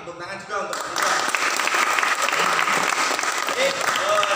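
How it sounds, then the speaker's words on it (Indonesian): Classroom audience applauding a student after an answer in a lesson on engine components, the clapping bursting in after a moment of talk and continuing steadily and fairly close to the end. "Oke, tepuk tangan juga untuk Mbak Nida."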